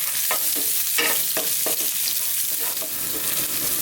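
Onion sautés in a pan with a loud, continuous sizzle, punctuated by rhythmic scraping strokes as it is stirred.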